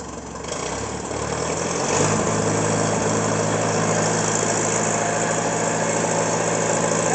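Old tractor with a slightly gummy carburetor, its engine running steadily and then throttled up, rising to a loud, sustained, close rumble that holds to the end.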